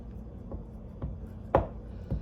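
A spoon working through thick almond butter in a jar, producing four or five dull scraping strokes roughly half a second apart, close and quiet with no talk.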